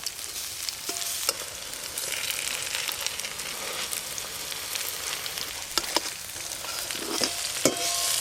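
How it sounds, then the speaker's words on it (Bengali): Pui leaf fritters (bora) frying in oil produce a steady, dense sizzle that runs throughout, with a few sharp clicks and scrapes of a utensil turning them in the pan, close and with no talking. "বড়াগুলো ভাজা করছি, ধীরে ধীরে ভালো করে ভাজাও হচ্ছে"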